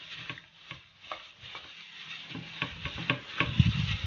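Chili being mixed into pork ribs in a pan: uneven scraping and stirring strokes with soft clacks, rising and falling in bursts, a faint sizzle underneath, no one talking.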